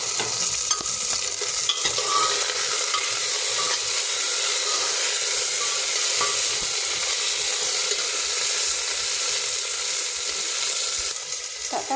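Tomatoes fry in a pan over a steady, bright sizzle with a constant hiss, unbroken and close for the whole stretch, with a few faint stirring clicks and no speech.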